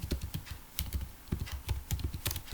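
Steady, fast typing on a computer keyboard, close and fairly quiet, with irregular bursts of key clicks and short pauses while LaTeX list entries are entered, and no speech.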